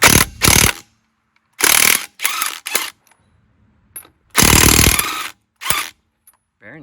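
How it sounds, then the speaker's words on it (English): A Craftsman impact wrench removes car lug nuts in a series of loud, short rattling bursts, each under a second, separated by brief quiet pauses. "those came off extremely quickly and efficiently with this awesome Craftsman Impact wrench"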